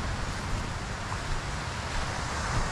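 Large sea waves and wind near the lighthouse at Baler in the Philippines, a dense continuous roar of surf and wind buffeting the mic, steady and broadband with no talk.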